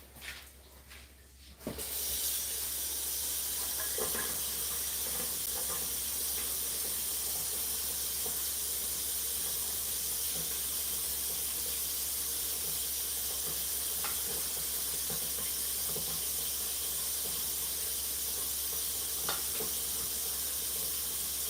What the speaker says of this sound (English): I am going to be draining some of this grease out.